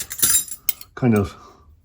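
Spoons clink and knock against each other in a small workshop, a few bright metallic taps in short bursts, with a voice speaking briefly between them.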